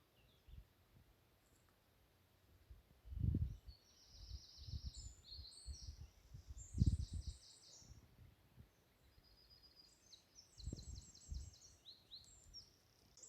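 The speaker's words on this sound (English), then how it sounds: "there's a black cap in the distance, and then there's a potential nightingale a bit further away" Distant spring bird chorus on a countryside estate, with a blackcap singing far off and a possible nightingale further away, thin high phrases repeating over low rustling and a few soft thumps nearby.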